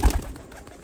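Domestic flying pigeons kept by a breeder give a short, soft, low coo close by, lasting under a second.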